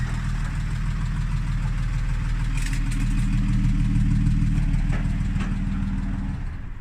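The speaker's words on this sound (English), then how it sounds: "a 1969, fully functional, beautifully restored Mercedes Unimog" A 1969 Mercedes Unimog diesel truck engine idles steadily with a low, rhythmic chugging rumble that continues for several seconds, close by and loud.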